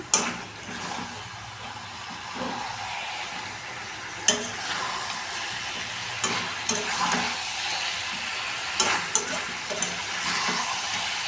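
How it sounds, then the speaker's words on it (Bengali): Black mutton curry is stirred in a pot, giving a continuous close sizzle with scraping strokes and a few sharp clinks of the spoon against the metal, and no talking. "রান্না করে ঢাকনা তুলে এই অবস্থায় আবার নাড়াচাড়া করে নেব"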